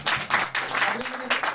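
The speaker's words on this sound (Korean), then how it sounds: "박수 주세요" Audience applause for a band member at a live band performance rises and falls in steady broadband bursts for a moment, fairly loud and close, with a voice faintly mixed underneath.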